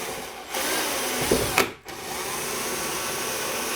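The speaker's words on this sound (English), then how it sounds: "Take a drill bit that is slightly smaller than the screw for that knob" A power drill bores a pilot hole into a bi-fold door for a knob screw, a loud, continuous whirring grind that briefly dips and then resumes steadily.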